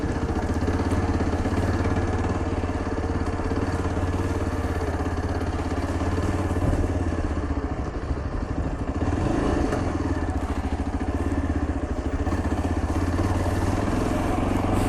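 A motorcycle engine rumbles steadily at close range on a road near Rohru, Himachal Pradesh, with wet clattering and scraping from the wheels churning and slipping through slush, continuous throughout.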